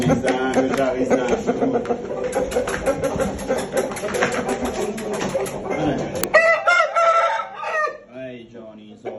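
Several chicks of a fighting cock breed chirp in a rapid, steady stream of shrill peeps, then a few louder cheeps ring out alone near the end after the background drops away.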